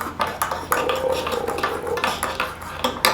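A spoon stirs Cuban coffee (cafecito) in a cup, giving rapid clinking taps of metal against the cup in an uneven rhythm, close and fairly loud, with no talking.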